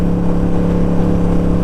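A Harley-Davidson Sportster motorcycle engine drones loud and steady under way, its low rumble held constant with a faint whir of wind, no voices heard.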